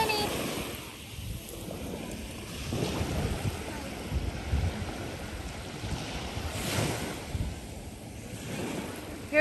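Ocean surf washing onto a shell-strewn beach on Captiva Island, a steady broadband wash that swells and recedes, with wind buffeting the microphone and no voices over it.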